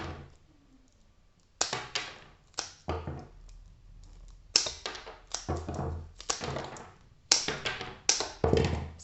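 Flower stems of a hand-tied bouquet are cut in a series of sharp, crisp snips and crunches, each cut a short separate burst with quiet pauses between them.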